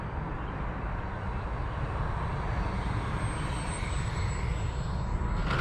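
An L-39 jet's engine, throttled back toward idle during a landing turn, gives a steady broadband roar with a faint high whine running through it, continuous and fairly even in level.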